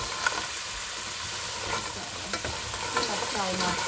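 Fresh blue crabs stir-fried with onion and ginger in a pan, tossed with steady scraping and clattering over a continuous loud sizzle, no voices.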